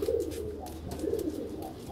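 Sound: pigeons cooing

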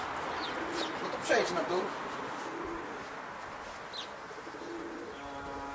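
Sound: racing pigeons cooing at the loft

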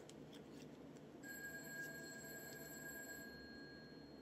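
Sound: landline house phone ringing

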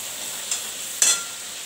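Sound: onions sautéing in a pan on medium flame

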